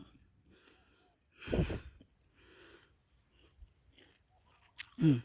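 Crisp, seedless Hong Bao Shi guava being bitten and chewed close to the mic: one loud crunchy bite, softer chewing, then a second sharp crunch at the end.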